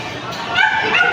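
A dog yips and barks briefly among people chatting casually during a family gathering before a trip to Palawan.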